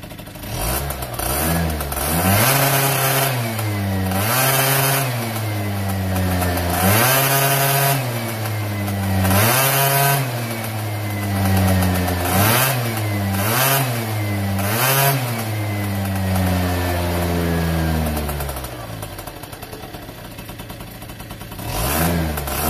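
MBK Booster scooter with a Doppler S3R exhaust, running rich, revved repeatedly: about seven sharp rising-and-falling buzzing revs, close and loud, ending in a lower steady idle.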